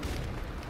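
A grenade blast in the Call of Duty Modern Warfare Remastered campaign, a loud, dense, close boom with a heavy low rumble filling the whole short moment.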